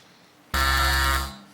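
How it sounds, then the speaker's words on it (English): A single loud electronic quiz-show buzzer blares for just under a second, then cuts off, with quiet before and after. "Fingers on buzzers for this one"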